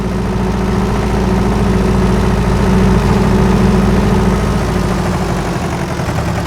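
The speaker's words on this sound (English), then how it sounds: "that engine sound, just do a drive around here" A farm tractor's engine in a farming simulator game runs steadily and loudly, a low idling rumble with a constant droning hum for the whole stretch, with no talk over it.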